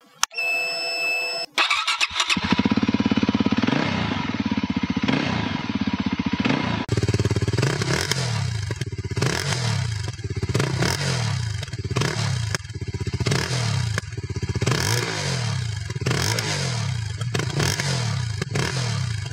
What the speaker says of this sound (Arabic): غادي ننتقلوا للصوت ديال الموتور، غندير لكم اماش وغنسمع الصويت